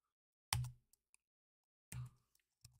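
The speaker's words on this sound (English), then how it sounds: "When you type something, you can easily move up and down using the arrow keys." Computer keyboard keys are pressed in two close clusters of clacks with a few light ticks between them, up close in an otherwise quiet room.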